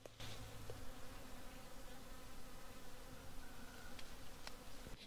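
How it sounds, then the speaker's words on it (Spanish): Honeybees buzz steadily around citrus blossoms in an outdoor orchard, a continuous close insect drone with slight swells in loudness, heard alone without talk. "no sé si logran escuchar el sonido, el zumbido"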